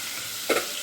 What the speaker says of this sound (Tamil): தக்காளி பழம் 10 நிமிஷம் வதங்கிடுச்சு